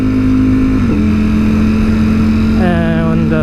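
A Ducati Streetfighter V4S motorcycle engine runs loud and close, holding a steady drone before revving upward as the bike pulls away, with a brief voice over it.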